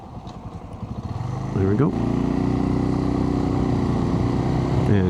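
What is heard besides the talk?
Suzuki TU250X motorcycle riding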